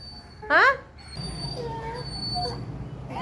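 A dog gives a short, loud high whimper close to the microphone, followed by softer whining while a person talks.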